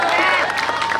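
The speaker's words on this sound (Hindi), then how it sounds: "एक बार जोरदार तालियां।" A stage audience claps loudly in a dense, continuous wash of applause at a film promotion event, with voices mixed into the crowd noise.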